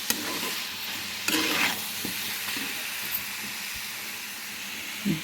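Tomatoes go into a hot pan for a drumstick pulusu: a loud splash and sizzle at the start, then a continuous hiss of frying with occasional scraping stirs, close by and with no talking.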